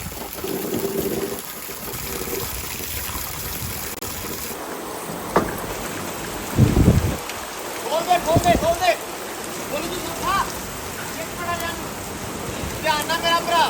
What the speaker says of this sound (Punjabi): ਬਹੁਤ ਸਪੀਡ ਨਾਲ ਬਾਰਿਸ਼